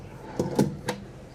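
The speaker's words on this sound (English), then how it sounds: "So down below here, we got some pull-out drawers." Pull-out drawers under a Euro dinette in a Newmar London Aire 4521 motorhome, giving three short wooden knocks and slides in quick succession, fairly close and moderately loud, with no talking.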